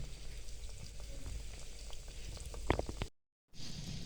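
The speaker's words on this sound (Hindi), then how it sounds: "हल्की आंच में हमने इनको फ्राई करना है" Shakkar paray dough pieces fry gently in oil over low heat, giving a soft, even bubbling hiss with a few faint pops and one short drop to silence near the end.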